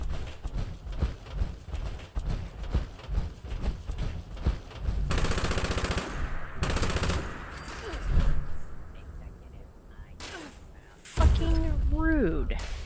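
Gunfire in the Fallout 76 video game rattles in rapid repeated bursts at the player, loud and close, with someone talking over and between the shots.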